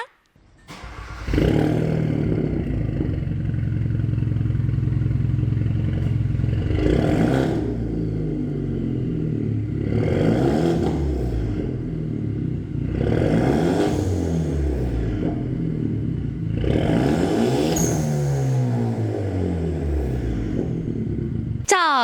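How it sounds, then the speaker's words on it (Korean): A tuned Hyundai Genesis Coupe with a custom exhaust and blow-off valve idles close by with a deep rumble, then revs up and down in about five sharp bursts, its exhaust roaring with each surge. "블로우 밸브가 또 달려 있으니까 또 배기음 궁금하실 텐데요. 일단 배기음 듣고 오시죠."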